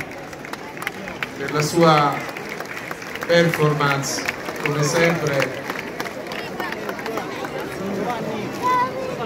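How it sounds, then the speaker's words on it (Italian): A crowd applauds a performance at an outdoor religious feast in Gesualdo, a steady wash of clapping and chatter running throughout under someone speaking over a loudspeaker. "È un meritato l'applauso, un applauso a Luigi"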